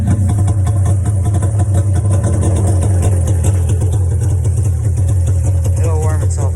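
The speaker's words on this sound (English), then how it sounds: "It always idles low when it's cold." A quad's engine idles low just after a cold start, a steady, loud, close rumble running throughout without a break.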